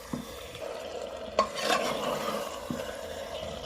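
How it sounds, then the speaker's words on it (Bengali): Mutton pieces being fried and stirred with spices in a pan, a steady close sizzle with scraping stir strokes and a few sharp utensil knocks against the pan. "মা তোমার মটন কষানো কত দূর?"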